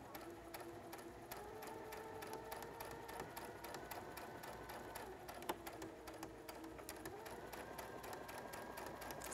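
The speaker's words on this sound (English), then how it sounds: "I'm gonna stitch as close to that line as possible." Sewing machine stitching a blouse seam, a continuous fast mechanical whir and tick of the needle running steadily at a slow even pace, close up and without talk.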